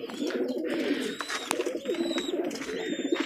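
Pigeons in a rooftop cage on a very hot summer day coo steadily in a close, overlapping murmur, with a few sharper chirps and calls rising over the continuous low cooing.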